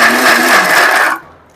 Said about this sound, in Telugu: ఫస్ట్ మిక్సీని పెట్టుకుందాం